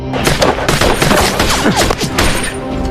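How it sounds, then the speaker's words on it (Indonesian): Heavy gunfire in an action-film shootout: loud, dense bursts of overlapping shots layered with whooshing effects, continuous for the whole stretch. "Kelton memilih untuk baku tembak saja dengan mereka"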